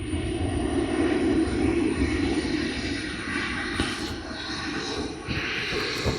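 An IndiGo airplane takes off near Kochi International Airport, heard from behind the airport as a loud, steady engine roar with a deep rumble that holds for the whole stretch, dipping slightly midway.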